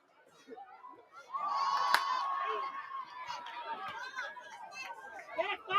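Crowd at a netball match between Waandi Warriors and Barracudettes Green, a lively mix of chatter, children's shouts and cheering rising and falling close by.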